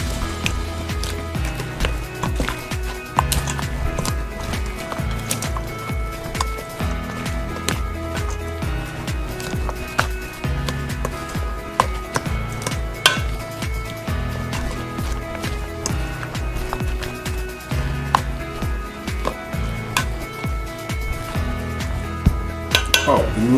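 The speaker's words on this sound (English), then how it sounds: "Give it a nice little mix." Coleslaw being tossed in a bowl: steady clinking and scraping of a utensil against the dish with soft wet squishing, continuous and close, under background music.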